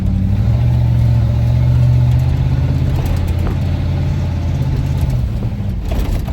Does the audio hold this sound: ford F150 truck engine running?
yes